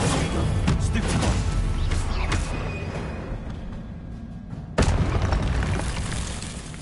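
Stupefy spell effect in a Harry Potter video game: a booming, crashing blast that rumbles and fades over several seconds, followed by a second sharp, loud impact near the end.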